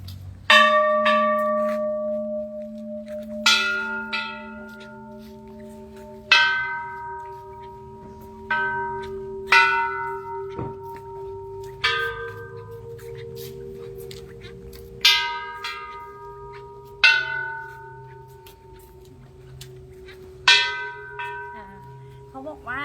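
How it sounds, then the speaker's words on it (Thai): A large temple bell at a Thai monastery in Rayong, struck repeatedly about every three seconds, each strike ringing out with a long shimmering decay that overlaps the next; a faint voice underneath. "เราควรจะเคาะระฆังให้ส่งเสียงค่ะ"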